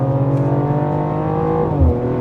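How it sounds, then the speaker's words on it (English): A 2024 Mercedes GLE 53 AMG SUV's exhaust drones steadily and loudly while driving, a deep rumbling note that shifts pitch near the end as the engine changes speed. "the exhaust note alone is worth this car"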